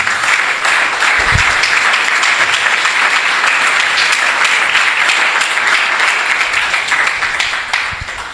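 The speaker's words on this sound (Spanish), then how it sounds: "Dale un aplauso al Señor." A church congregation applauds during a Spanish-language sermon on spiritual struggles, a dense, steady wash of clapping that fills the room from start to finish at full loudness, with no speech over it.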